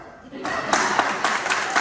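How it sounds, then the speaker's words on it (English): An audience at a civic gathering in Port Arthur, Texas, breaks into applause, a short burst of steady clapping that swells quickly and stays moderately loud. "You may clap."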